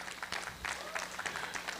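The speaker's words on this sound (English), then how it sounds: "Can we give a round of applause again?" An audience at a school family summit keynote claps in a short, moderately distant burst, with scattered individual claps rising and falling.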